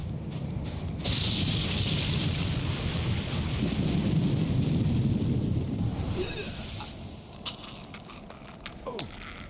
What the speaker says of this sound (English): The thunderstorm is really loud.